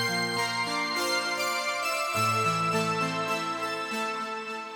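A single synth voiced on two tracks at once, one transposed up an octave, playing a sustained layered chord progression with a full, bright tone and a chord change midway, steady and loud with no talk.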